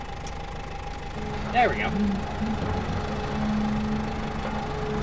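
A steady low truck engine drone idles in the game SnowRunner, sounding like a tractor, under a voice briefly speaking, with a faint chirp and mechanical hum throughout.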